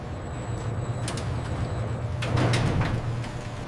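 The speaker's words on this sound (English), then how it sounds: "The dock doors close after the shipment." Loading dock doors at a ginger processing factory slide shut after a shipment: a long rumbling roll with a few metallic clanks, then a louder rattling finish, heard nearby with no voices.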